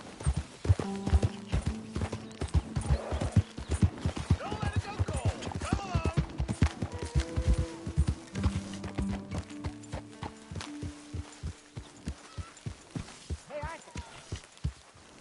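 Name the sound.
horse hooves clip-clopping in a video game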